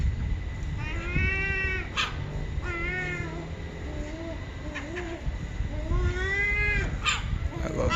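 Birds near a street of small shops in Brighton give odd, squawking harmonic calls in three separate bursts over steady outdoor background noise.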